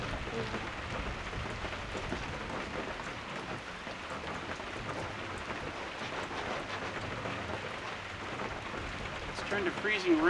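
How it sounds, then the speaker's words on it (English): Freezing rain falling steadily around a cabin on a rough Canadian trail, a dense, even hiss of drops with a faint low rumble underneath, continuous for the whole stretch. "Into freezing rain."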